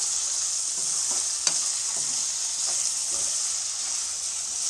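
Vegetable fried rice cooking in a pan gives off a steady high sizzle and hiss, with soft scraping and a single sharp tap as a spatula mixes it, close and unbroken by any voice.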